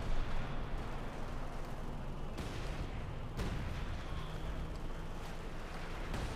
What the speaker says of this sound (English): A lot of artillery fire here.